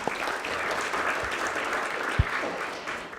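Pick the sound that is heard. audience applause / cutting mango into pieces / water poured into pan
audience applause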